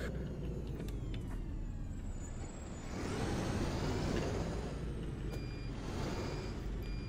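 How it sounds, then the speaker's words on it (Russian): PAZ Vektor Next bus engine in the OMSI 2 driving simulator on the Yuzhny city map, a steady loud rumbling drone that swells after a few seconds, with a faint reversing beep and a hiss like air brakes, no talking. "Он, кстати, реально очень шумный, этот автобус."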